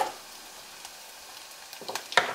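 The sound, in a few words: homegrown spring onions thrown in to fry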